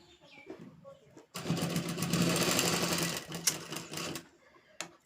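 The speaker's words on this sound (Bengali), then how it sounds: "ঠিক একই রকমভাবে অপর পাটটাও সেলাই করে নেব" An electric sewing machine stitches fabric for a child's gathered frock, running loud and close in a rapid mechanical burst of about three seconds between quieter handling sounds.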